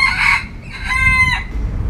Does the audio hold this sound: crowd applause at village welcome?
no